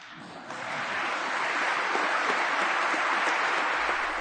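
A large audience greets Ukraine's president with an ovation in the presence of King Charles III, a dense, steady wash of clapping that swells after a soft start and holds at full strength throughout.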